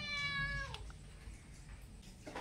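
A single clear cat meow, drawn out and fairly close, followed by quiet background with faint rustling.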